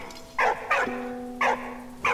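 Dog barking in the video game Valiant Hearts: The Great War, four sharp barks in an uneven rhythm, fairly close over a low steady background hum.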